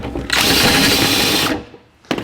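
A power drill bores out a hole in a battery box on a 1949 Chevrolet gasser, one loud close whine lasting over a second, then cutting off, with a short clunk after.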